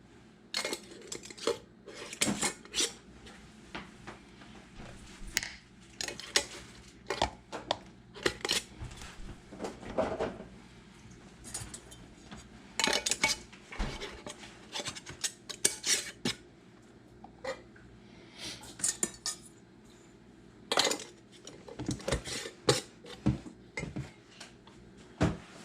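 Glass quart jars are set into a canner one after another, giving sharp clinks and knocks of glass against metal in irregular bursts with quieter gaps between.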